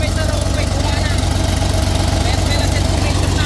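The diesel engine of a Caterpillar 320B excavator idles steadily and loudly nearby, a constant low rumbling throb with no change in pace.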